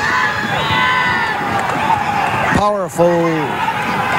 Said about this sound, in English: Spoiler's fans are screaming for him to come up and equalize things